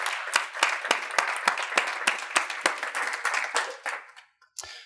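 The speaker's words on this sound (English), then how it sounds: "ask you all to give each other a round of applause" An audience at a user group meeting gives a round of applause, a moderate burst of clapping with distinct individual claps that thins out and fades near the end.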